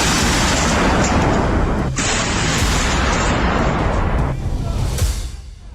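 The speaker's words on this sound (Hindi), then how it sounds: "यह आर्टिलरी गन 170 mm के गोले दागती है" A Koksan 170 mm self-propelled artillery gun firing shells, a loud, sustained broadband roar with sharp blasts near two and four seconds, fading at the end.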